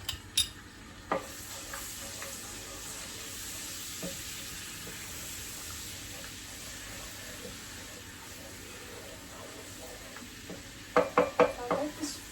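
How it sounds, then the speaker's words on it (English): Ginger garlic paste fries in a pan with a continuous low sizzle while a spoon stirs it, ending in a quick burst of loud scraping and knocking strokes against the pan. The sound is close and plays alone. "So that's my ginger garlic paste. And I'll give it a good stir."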